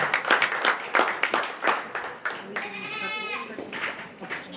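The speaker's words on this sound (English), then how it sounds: "So let's give them another big round of applause." Audience applause breaks out at a county fair dairy goat show, a burst of fairly close clapping running steadily for several seconds, with goats bleating faintly in the barn behind it.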